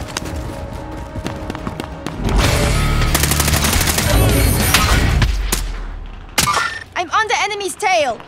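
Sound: heavy gunfire in Call of Duty Warzone video game

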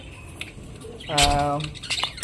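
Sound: budgerigar squawking

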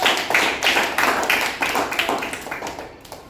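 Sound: children clapping in class

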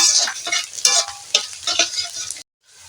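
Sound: onion, garlic and spice masala frying in a pan

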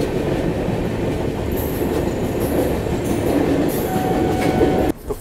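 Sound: Tirumala Express train crossing the Godavari rail-cum-road bridge

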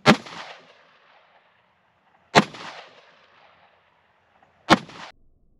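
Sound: gunshots firing three FMJ rounds into ballistic gel

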